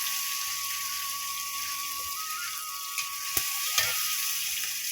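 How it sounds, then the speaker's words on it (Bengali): Chopped garlic and onion fry in hot oil, giving a steady bright sizzle that runs throughout, with a few light clicks of a utensil and a faint tonal hum underneath. "তেল দিতেছি, রসুন দিলাম,"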